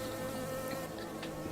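Steady, dense buzzing of a bee swarm in a hex-grid video game, continuous and loud throughout with no voices over it.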